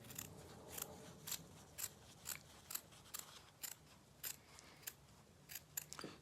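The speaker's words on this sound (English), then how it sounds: "So turn your pattern over, and we're going to cut it out." Scissors snip through a piece of felt to cut out a pattern piece: about a dozen crisp, evenly spaced cuts, faint and close, with no talking.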